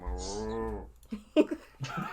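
A voice imitates a passionate minotaur mooing, one long, low, throaty bovine bellow up close, followed by brief talking.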